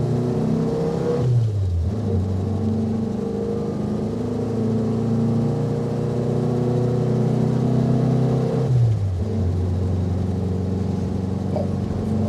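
Renault Dauphine 1093 accelerating on a country road, its engine note climbing steadily through the gears with two clear shift dips, the small rear engine droning loud and close throughout with no talking.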